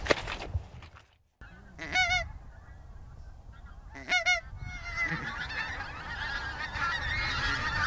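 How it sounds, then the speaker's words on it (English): Wild geese honk in repeated bursts from a distance at sunrise during a goose-flighting shoot, with calls growing more frequent and layered toward the end. "Now calling can begin in earnest, but the geese are still a long way away."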